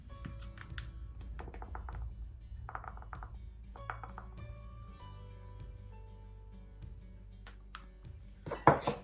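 Sugar and cinnamon are mixed in a small bowl, a run of quick light clicks and scrapes of a utensil against the bowl, close and quiet, ending in a louder clatter.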